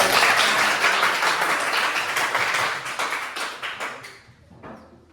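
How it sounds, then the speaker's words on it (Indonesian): Students in a classroom clap together in a lively burst that gradually thins and fades out toward the end. "tepuk tangan dulu untuk kita semua"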